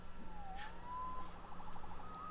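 A police siren wails in the Marvel's Spider-Man video game, one rising and falling tone carried steadily over a low background hum with no talk.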